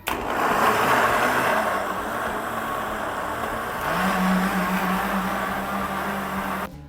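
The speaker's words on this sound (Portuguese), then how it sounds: "ele tá batendo, eu tô parando ele no meio e dando uma mexidinha pra não judiar muito do liquidificador" A kitchen blender whirs steadily as it blends bananas for banana candy, a continuous mid-level motor drone that shifts pitch partway through and cuts off at the end, with no talking.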